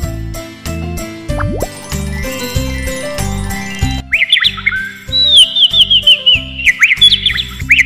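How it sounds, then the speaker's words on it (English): Bright, quick bird chirps and trills from a children's TV cartoon ring out loudly over a bouncy, plinking musical beat, entering partway through and continuing to the end. "It sounds more like a singing bird."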